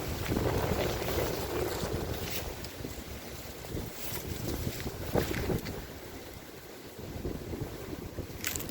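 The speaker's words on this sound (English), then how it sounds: "Extremely windy." Strong, steady wind roars and buffets the microphone throughout, with gusty rumbling and rushing noise outdoors in a graveyard and no talking.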